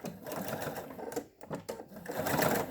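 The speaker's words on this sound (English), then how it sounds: "We're going to stitch a 1/2 inch seam" Sewing machine stitching a half-inch seam through red fabric backed with Pellon, a dense, close mechanical whirr that briefly slows and stutters mid-run before speeding up again, with no speech.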